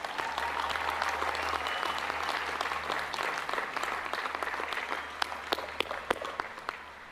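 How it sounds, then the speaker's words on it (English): A large commencement crowd applauds magna cum laude graduates at a spring university ceremony, broad sustained clapping that thins toward the end into a few louder, isolated claps close by. "Let's give them a big round of applause."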